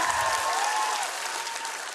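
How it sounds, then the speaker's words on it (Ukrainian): Enthusiastic audience applause at a comedy and music show, a dense wash of clapping that starts full and stays steady for a couple of seconds. "під ваші бурхливі оплески"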